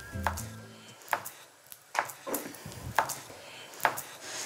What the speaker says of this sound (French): Donc là, je coupe le melon.